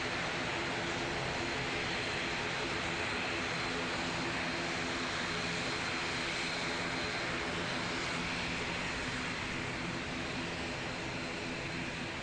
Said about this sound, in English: The ATR is a loud guy.